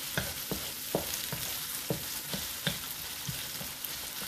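Cabbage with sardines and tomatoes fries quietly in a pan under a soft continuous sizzle, punctuated by regular scraping strokes of a spoon stirring roughly twice per second.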